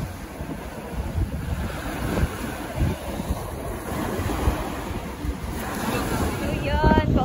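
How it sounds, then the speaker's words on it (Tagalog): Strong afternoon sea waves at high tide surge continuously near the shore, a dense wash of surf mixed with steady wind buffeting the microphone, staying loud throughout with no talk. "Sobrang lakas ng alon paghapon."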